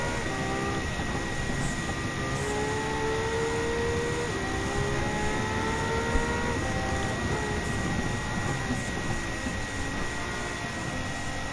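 A race car engine in Gran Turismo 7 at high speed near 150 mph: a steady loud drone with rising and shifting engine tones as the revs climb, and no talk.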